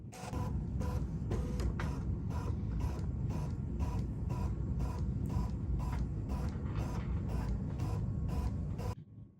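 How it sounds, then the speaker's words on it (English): A Bernina 990 sewing machine scans fabric for quilting, giving a steady mechanical whir broken by a regular series of sharp clicks and creaks from the moving parts, close and continuous until it stops abruptly. "And now it's going to start to scan."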